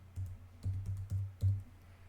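A few keystrokes on a computer keyboard, four or five soft clacks in an uneven rhythm, close and quiet with no voice.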